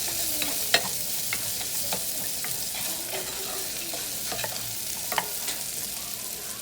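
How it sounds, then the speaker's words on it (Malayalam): Garlic and a small piece of ginger sauté in a pan for a Kerala-style prawn roast, an even sizzle marked by a scattering of light utensil clicks and scrapes. "ഇതിൻ്റെ റോ സ്മെല്ലൊക്കെ മാറുന്നത് വരെ നന്നായിട്ടൊന്ന് സോട്ട് ചെയ്ത് കൊടുക്കാം."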